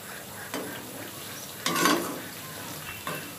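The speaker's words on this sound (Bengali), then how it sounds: "উল্টে পাল্টে এই সাইডটাও আমি 2 থেকে 3 মিনিট ভেজে নিব" Potato pakoras (piyaju) frying in oil over medium heat, with a soft steady sizzle and three utensil scrapes as they are turned, the middle one longest, close by and without speech.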